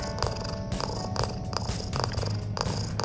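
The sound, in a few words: cat purring while being rubbed near the mic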